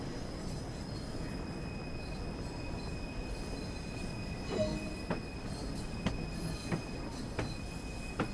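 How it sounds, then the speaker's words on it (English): A train pulls into a station platform in the Train Sim World 2 simulator: a steady rumbling roll with a high squealing tone and several sharp clanks and wheel clicks as it arrives. "There's our train coming in."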